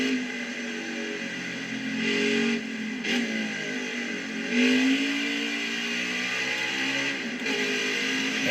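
A stock car engine in the NASCAR Heat 5 racing game roars at high revs down a long straight, bouncing off the rev limiter, with pitch sweeps as gears shift, steady and loud with no talking.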